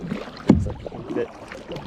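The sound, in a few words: kayak paddling on water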